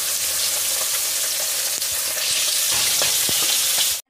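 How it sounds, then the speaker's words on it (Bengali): Tilapia fish deep frying in hot oil in a village kitchen, a loud dense continuous sizzle and crackle with occasional pops and spatula touches, cutting off abruptly at the end. "মাছটা একটু ভালো করে ছাঁকা তেলে না ভাজলে হবে না, আর আমি একটু ছাঁকা তেলেই মাছটা ভালো করে ভেজে নেব"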